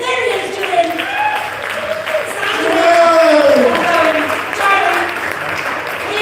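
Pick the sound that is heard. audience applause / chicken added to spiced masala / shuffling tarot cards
audience applause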